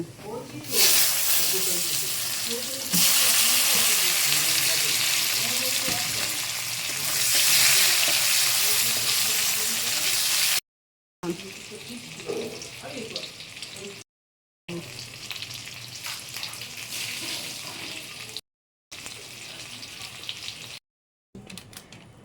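Garlic and mustard seeds fry in oil for a sour mola fish curry, giving a loud, continuous hissing sizzle that later continues in shorter stretches with brief gaps and some talk over it.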